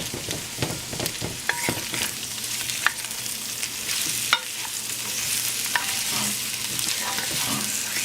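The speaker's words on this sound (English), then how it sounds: "Saute for 5 minutes now" Soy sausage or tempeh sautéing with mushrooms in a pan, giving a loud, steady sizzle with a spoon stirring and scraping through it and a few sharp clinks, all close and continuous with no voices.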